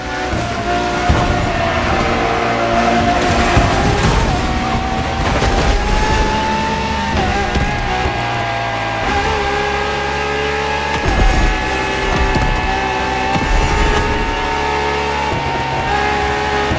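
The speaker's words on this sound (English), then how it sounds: "The strongest naturally aspirated Ferrari V12 to date, marking Ferrari's first steps into hybrid technology." A naturally aspirated Ferrari V12 hybrid in The Crew Motorfest revs hard and loud, climbing and dropping through gear changes over a sustained, dense engine roar with no voices.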